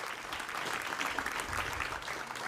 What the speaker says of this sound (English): as you continue to clap